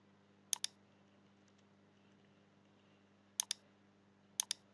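Computer mouse clicking during 3D roof modelling work in SketchUp, sounding as three quick double clicks spaced apart, crisp and fairly close over a quiet room hum.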